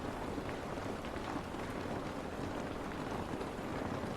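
Heavy rain in The Last of Us Part 2 falls as a steady, soft hiss of drops hitting surfaces, even and continuous throughout with no talking.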